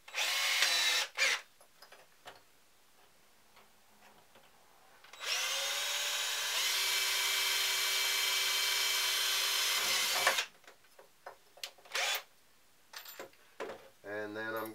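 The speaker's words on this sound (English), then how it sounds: "I use a small drill for a pilot hole" A small power drill bores a pilot hole into wood for a quick-release bracket, with short bursts of whine followed by a long steady run of about five seconds, close and loud, with brief quieter spurts afterward.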